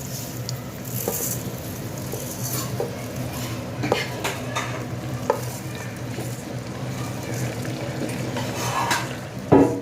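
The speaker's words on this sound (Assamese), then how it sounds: "এতিয়া আমি এইখিনি প্ৰায় 4 মিনিটমান সময় ভাজি ল'ম যাতে পানীখিনি নোহোৱা হৈ যায় চাউলৰ" Rice soaked for pulao fries in a pan while a utensil stirs and scrapes against the metal, giving soft clinks and scraping over a low, steady sizzle, close and moderately quiet.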